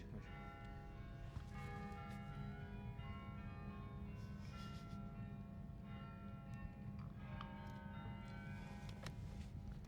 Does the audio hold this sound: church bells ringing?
yes